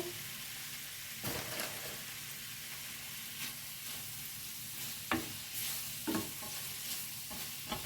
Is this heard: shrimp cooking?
yes